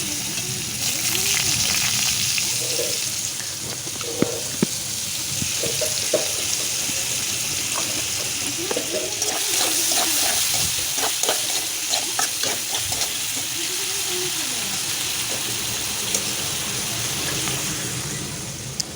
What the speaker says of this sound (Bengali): তেলেই গাজরগুলো ভেজে নেব।